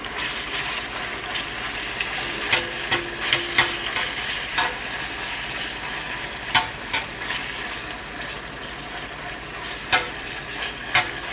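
Pork tossed in a hot oiled wok for a noodle stir-fry, giving a steady sizzle and hiss with repeated sharp clinks and scrapes of a utensil against the pan at irregular intervals, close and fairly loud, with no talking.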